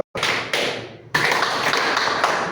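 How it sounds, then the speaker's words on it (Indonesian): A priest claps out a rhythm pattern for a classroom of students, sharp loud taps coming in a few separated bursts, close and without any talk over them. "Sekarang Romo tepuk."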